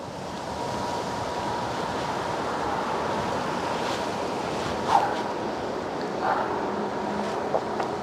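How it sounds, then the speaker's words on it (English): Steady wind roars against the microphone outdoors in New York City, a constant rushing noise with a faint knock partway through. "It's very windy today"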